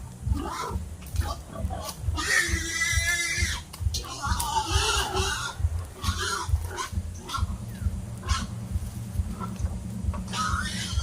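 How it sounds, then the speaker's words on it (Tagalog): A pig tied up in its pen squeals and screams in loud bursts, with grunting and other farmyard noise around it and some talk in the background. "tinatalian nila yung baboy dyan sa kulungan"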